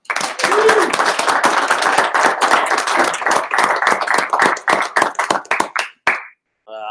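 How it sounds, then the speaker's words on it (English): A live audience at an infrastructure-automation meetup gives a round of applause for the sponsors: loud, close, rapid clapping from many hands that holds steady for several seconds, then thins out and stops. "How about a round of applause for our sponsors?"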